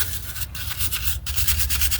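Hand wire brush scrubbing hard and steadily across a 2009 Dodge Journey engine, a dense continuous rasping scratch with quick back-and-forth strokes, close up and with no talking.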